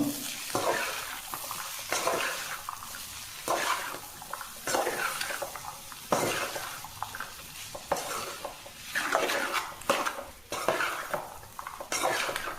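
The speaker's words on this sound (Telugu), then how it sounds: "దాంట్లో వేసుకొని చిన్నగా ఒకసారి మొత్తం కలుపుకుందాము" Cauliflower and chana dal fry is stirred in a sizzling pan, with a spoon scraping and clattering against the metal in repeated strokes over a steady frying hiss. No voices are heard.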